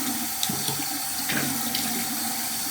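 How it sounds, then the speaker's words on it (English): Warm tap water runs steadily from a bathroom faucet as a face is rinsed, with small splashes and hand movements breaking through the continuous rush. "notice I said to rinse it with warm water"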